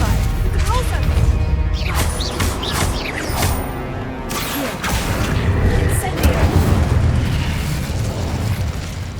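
Spell combat in Hogwarts Legacy, with a Repulsor blast among loud magical booms and crashes over steady rumbling, while a voice calls out spells throughout.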